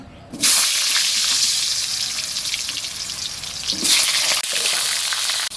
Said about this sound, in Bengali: আলু মাংস রান্না করার আগে আমি আলুগুলোকে আগে ছাকা তেলে ভালো করে ভেজে নেব